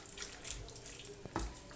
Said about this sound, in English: you can always put a little bit of water in there